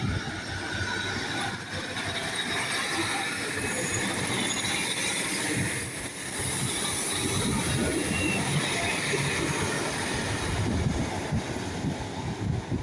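A Great Western Railway Class 150 diesel unit passing at Teignmouth, heard as a broad continuous rumble and rush under wind buffeting the microphone, steady throughout with no voices.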